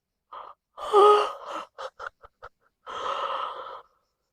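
Deep breathing during a yoga session with hands resting on the sternum: a few audible inhales and exhales, one long drawn breath early, a run of short catching breaths, then a final long exhale, close and alone.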